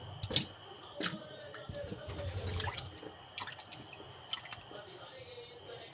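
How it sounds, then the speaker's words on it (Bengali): Lentils being washed by hand in water in a home kitchen, with soft close drips, squishes and sloshing that come and go at low level, alone without talk. "ডাল ধুচ্ছি, দেখেছো?"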